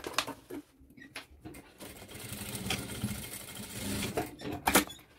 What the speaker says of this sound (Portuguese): Vou ali, vou fazer uma costurinha de segurança.